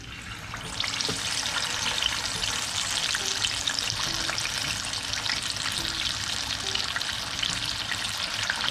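Patakha chicken pieces deep frying in hot oil, a steady dense sizzle and crackle that holds close and even, with no talk.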